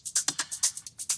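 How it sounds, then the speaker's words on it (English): A shaker loop in a studio beat, with bright, crisp swishes in a steady rapid rhythm, about ten strokes in just over a second, close and on its own. "So then I have another shaker."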